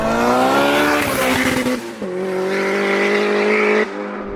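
A 370bhp VTEC turbo Mini pulls hard in first gear, its engine loud and close and rising steadily in pitch, with a few abrupt breaks in the rev as it screams on.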